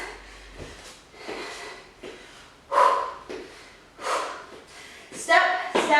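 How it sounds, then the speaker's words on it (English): Forceful exhales during a mountain climbers exercise in a Pilates interval class, several sharp breaths in an uneven rhythm, close and mixed with an instructor's speech. "Big exhales as you make those mountain climbers"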